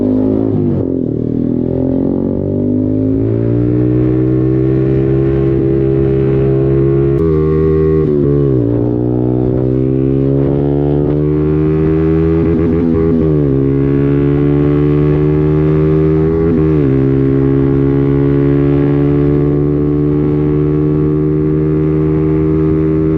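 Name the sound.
Zontes 125 Scrambler motorcycle riding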